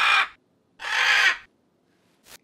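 A voice mimics a squawking parrot, giving two loud, harsh squawks and a short third one, each separated by silence.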